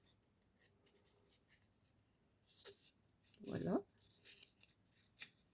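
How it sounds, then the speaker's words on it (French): Paper creases being pressed and marked while folding a pop-up card: quiet scraping and rubbing strokes, soft and close, with a brief louder rustle midway and a short spoken word over it. "Ensuite, on vient marquer les plis du petit triangle."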